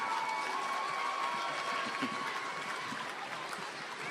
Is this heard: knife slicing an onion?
no